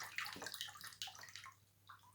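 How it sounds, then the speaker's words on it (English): Water sloshes and pours through the holes of a colander holding orange pieces during children's water play, with uneven splashy bursts and trickles, faint and nearby. "I'm going to put it in the colander for the water to come through the holes"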